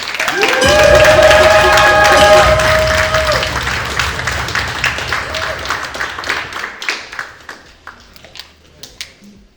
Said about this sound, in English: Please give a warm round of applause to that man.